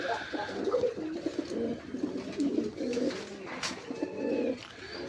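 Pigeons in a pair kept for sale coo repeatedly in soft, rolling bursts, close and moderately quiet, with faint background noise and no talking.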